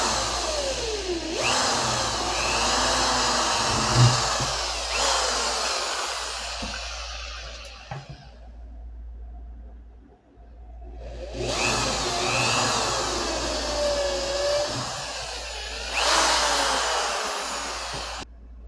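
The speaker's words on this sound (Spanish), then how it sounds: "debemos de hacer un agujero de aproximadamente 3 milímetros de diámetro para poder cruzar un tornillo" A small drill boring a 3 mm hole for a screw, a steady high whirring run for several seconds, a pause, then a second sustained run, close and loud with no talk.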